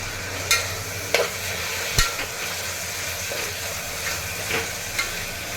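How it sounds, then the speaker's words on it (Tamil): Tomatoes and onions sauté in a pan with coriander powder for a vegetable kurma, a soft continuous sizzle under a few brief spoon knocks and scrapes, no talk. "நல்லா வதங்கணும் ரெண்டுமே, தக்காளியும் வெங்காயம் ரெண்டுமே"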